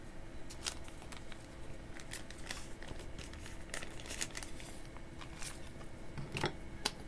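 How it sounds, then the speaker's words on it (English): Scissors struggling through plastic packaging, faint crinkling and snipping with scattered sharp crackles and small cuts spread across several seconds, quiet and close, with no talking. "Since when do scissors battle to cut plastic?"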